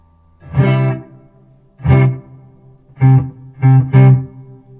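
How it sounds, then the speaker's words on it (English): Electric guitar played through a Hello Sailor Effects pedal with spring reverb, five separate strummed chords ringing out loud and close, each decaying into a splashy reverberant tail. "Sounds like a spring reverb."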